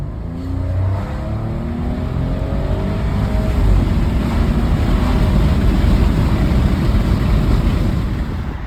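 A tuned 2017 Audi Q7 3.0T accelerates hard at full throttle from about 20 mph, the engine roar building loudly and steadily beneath heavy road and wind noise inside the cabin.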